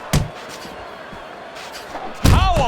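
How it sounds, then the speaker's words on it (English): Punches landing in a Fight Night Champion boxing match on Xbox Series S, Lewis against Klitschko: two sharp, heavy thuds about two seconds apart, the second louder, over steady crowd and arena ambience. "hook by Lewis"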